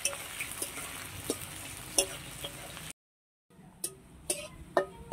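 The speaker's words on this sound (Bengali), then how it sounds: "পেঁয়াজটাকে ভালোভাবে ভেজে নেব।" Onions fry in a pan with a steady soft sizzle and scattered light clicks of stirring, a brief silent gap midway, then the sizzle resumes with sharper ticks.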